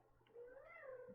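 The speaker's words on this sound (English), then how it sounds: "My cats are already saying hello." A pet cat lets out a single drawn-out meow that rises and falls, close and moderately quiet, with no one talking.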